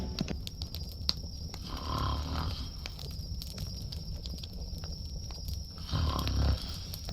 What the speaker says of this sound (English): She snores worse than you.